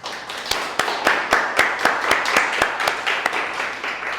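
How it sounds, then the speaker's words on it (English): Clapping at a Las Vegas tech community event, distinct sharp claps in a fairly steady rhythm over a lighter wash of scattered applause, close and moderately loud. "Clapping for myself."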